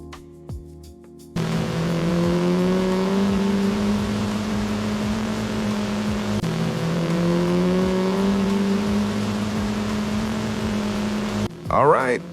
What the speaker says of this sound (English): The engine has presence, the rain feels intense